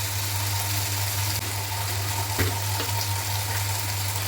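Potatoes frying with turmeric in a pan for suji upma, giving a steady, fairly soft sizzle over a constant low hum, with a couple of faint clicks from the pan.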